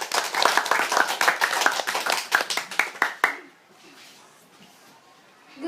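A school debate audience applauds an introduced debater, a dense burst of clapping that lasts about three seconds and then stops abruptly, leaving a quiet room.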